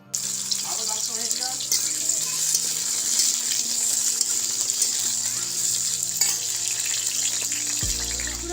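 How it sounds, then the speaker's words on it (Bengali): Pieces of pointed gourd (potol) fry in oil in a pan for a vegetarian potato and potol dish, giving a steady close sizzle with occasional stirring and clinks. "তো চলো পটলগুলো ভেজে নিই।"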